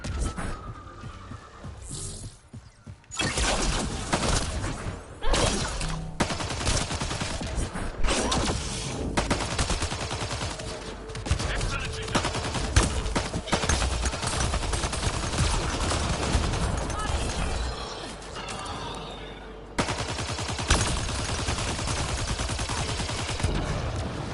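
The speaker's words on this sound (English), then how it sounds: "And I'm getting sniped at." Sniper gunfire in a video game, sharp shots cracking out repeatedly over a steady loud mix of mechanical hum and other weapon fire, with a quieter stretch at the start.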